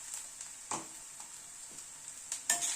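Ginger, garlic and onion frying in a pan, a quiet, even sizzle broken by a few sharp crackles and utensil taps over a few seconds, with no one speaking.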